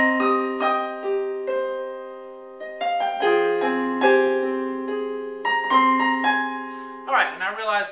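Gentle solo piano melody with sustained chords and flowing notes, played close and clearly, ending with a brief rustle.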